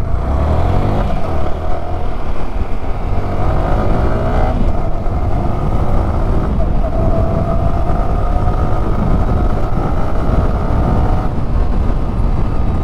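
A Yamaha R15 M motorcycle pulls away in first gear on a bumpy road with light traffic, its engine note climbing as it revs up, loud and close throughout, with no talking.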